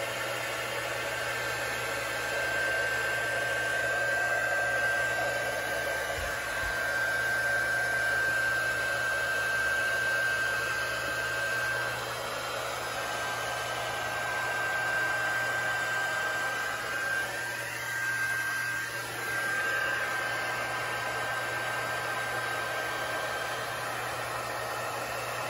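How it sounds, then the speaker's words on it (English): An embossing heat gun blows on alcohol ink coating a tumbler, giving off a steady, loud whirring hiss with a fixed high whine that runs unbroken throughout. "You can also use the embossing gun to kind of send it the direction you want a little bit."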